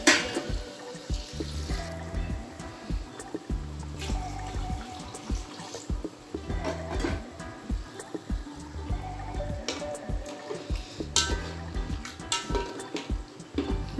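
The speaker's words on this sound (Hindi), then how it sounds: "अब मैं इसके अंदर पानी डालूँगी।" Water poured into cooking masala for mutton nalli pulao, a steady splashing pour with small drips, fairly close and continuous, with no talk.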